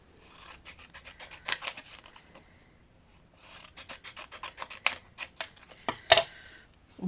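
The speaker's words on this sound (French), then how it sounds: "je vais découper vite fait" Scissors snip quickly through dead autumn leaves in short dry bursts, a few crisp cuts and rustles close by, quiet and alone.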